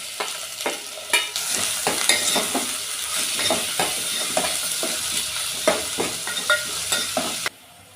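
Potatoes fry in a pan with turmeric and ginger paste, giving a continuous sizzle broken by repeated scraping stirs at an uneven rhythm, close up and fairly loud, with no talking.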